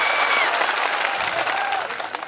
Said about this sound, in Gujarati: બધા જ માટે એકવાર આપણે જોરદાર તાળીઓ પાડી લઈશું.